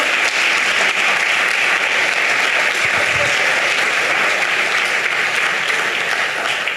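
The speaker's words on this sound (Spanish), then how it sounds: "Aplaudan por completo" Church congregation applause, a loud continuous wash of many people clapping together that stays even and sustained for the whole stretch.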